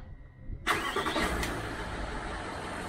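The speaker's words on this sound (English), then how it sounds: "Let's just cycle the ignition two or three times, like back in the old days, and give it a start." A Range Rover L405 engine cranks and catches after a quiet stretch, then settles into a steady, loud idle that continues to the end.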